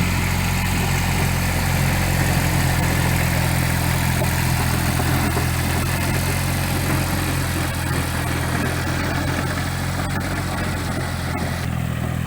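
A Kubota L2002 tractor pulling a 1.4 m rotary tiller through soil, with a loud, steady diesel engine drone and churning rumble that continues evenly and close throughout.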